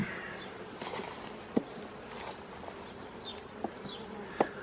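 Faint, steady buzzing of honeybees fills the background, with a few soft clicks and knocks close by.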